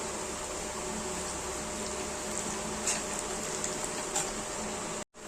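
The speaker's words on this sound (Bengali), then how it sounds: "হালকা একটু ফ্রাই করে নেব।" Mango lightly frying in oil in a pan gives a steady, soft sizzle with a few faint pops, continuous and alone, then cutting off abruptly near the end.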